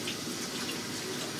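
Tap water runs steadily into a kitchen sink while hands are washed during meatloaf preparation, a continuous close hiss with no breaks and no voices.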